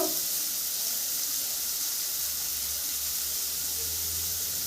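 Carrots and beans cooking in a pan with a little salt, giving a steady, even hiss and gentle sizzle that carries on unchanged without talk.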